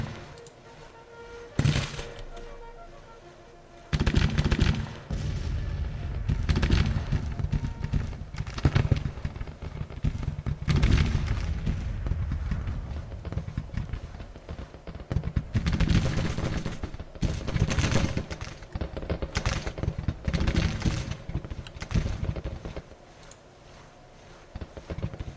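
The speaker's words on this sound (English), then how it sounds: "these skirmishers supposedly are firing at this guy" Scattered musket fire from Civil War skirmishers in Grand Tactician: irregular sharp cracks, some single and some in ragged clusters, over a continuous battlefield rumble for about twenty-five seconds.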